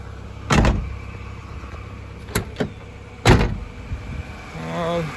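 A restored Subaru Impreza GC8 coupe: a few sharp door-lock clunks and thumps sound close by, followed by a brief whirring power window motor at the end, all over a faint background hum.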